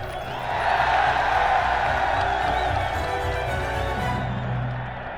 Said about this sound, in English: Now they were cheering the return of the Stuarts